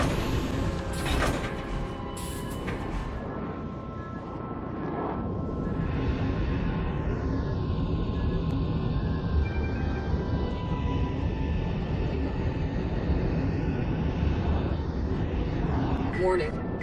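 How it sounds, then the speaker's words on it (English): An Anvil Gladiator spaceship comes in to land in a video game, its engines droning and whooshing with sweeping pitch changes over a steady roar, while someone talks over it. "Let's bring her in for a landing here"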